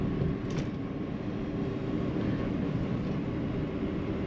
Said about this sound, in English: We'll go down to 2nd gear for the traffic circle.